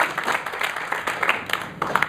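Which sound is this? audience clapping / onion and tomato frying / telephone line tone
audience clapping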